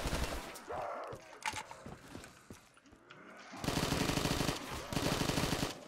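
An AK-74U fires in Call of Duty: Black Ops 3 custom zombies, with scattered shots and game noise early on and then two loud sustained automatic bursts near the end.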